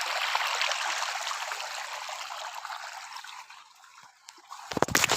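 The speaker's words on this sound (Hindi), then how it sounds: "यहाँ से पानी आ रहा है।" Water runs steadily through a channel on a farm with a bright, continuous rushing hiss that gradually thins out. It ends in a few sharp knocks and splashes.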